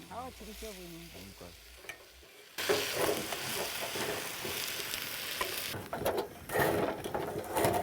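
Food sizzles and is stirred in a pan on an LPG stove, with two dishes cooking at once; a quiet stretch gives way to steady, loud frying with scraping stir strokes running throughout.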